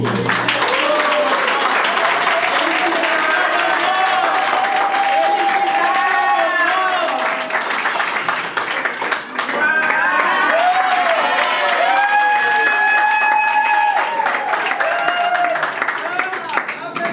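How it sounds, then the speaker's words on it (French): Guests at a civil wedding ceremony applauding and cheering loudly and continuously, with voices and shouts rising over the clapping and close speech mixed in throughout. "On a applaudi beaucoup."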